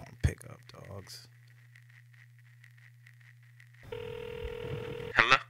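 A telephone rings repeatedly while a caller waits for an answer, a steady run of regular ring pulses heard up close through the handset, with brief speech at the start and a louder burst of noise near the end.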